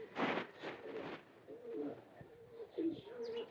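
Rampuri teddy pigeons coo in soft, repeated low calls at close range, fairly faint, with several short bursts spread across a few seconds.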